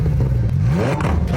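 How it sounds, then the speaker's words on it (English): A car engine revs up close and loud, its pitch climbing steadily through a brief, continuous burst with a rough mechanical clatter underneath. "If you're like revving your car and being annoying"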